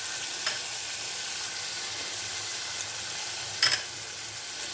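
Ginger paste fries in a hot pan, keeping up a steady, close sizzle with a couple of brief scraping clinks as it is stirred.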